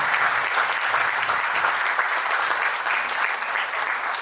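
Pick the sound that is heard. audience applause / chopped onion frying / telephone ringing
audience applause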